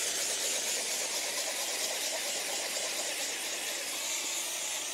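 A steam cleaner hisses steadily on a Porsche Targa floor mat, a loud, close, continuous high-pitched jet of steam with no breaks and no voices.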